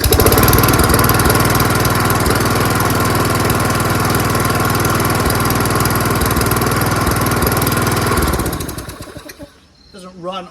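A Toro Recycler self-propelled lawnmower engine runs loud and steady with a rough, uneven tone, then cuts out and sputters to a stop near the end.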